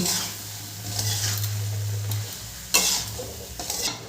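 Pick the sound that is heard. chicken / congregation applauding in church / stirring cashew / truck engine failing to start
stirring cashew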